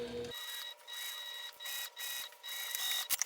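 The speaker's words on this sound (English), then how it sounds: "I'll make sure I'm sewing in a straight line using that same seam allowance and then back stitching" A sewing machine stitching a fabric basket seam with back stitching, a close mechanical whir running in short bursts separated by brief pauses.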